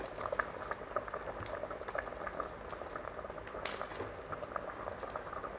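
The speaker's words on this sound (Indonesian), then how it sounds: "Nampak masak ikan tu, masukkanlah tomato last sekali." Asam pedas red snapper fish curry with tomato bubbling in a pot, a steady close simmer of popping bubbles with occasional brighter splashes and no voices.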